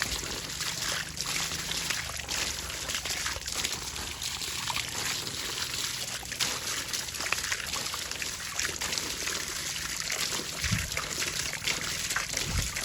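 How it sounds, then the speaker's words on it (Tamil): Water trickles and pours steadily onto the soil of a newly planted banana plant in a garden, a soft continuous splashing with no voices. "தண்ணி அப்போ ஊற்றணும்"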